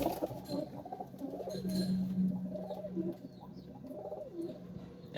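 Pigeons coo softly inside a dark coop, a few low, rounded, repeated coos rising and falling at a moderate distance over a quiet background.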